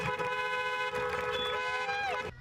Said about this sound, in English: This is a long-awaited live audience cheering and honking.